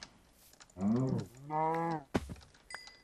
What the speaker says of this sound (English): Minecraft players who was annoyed by the cows mooing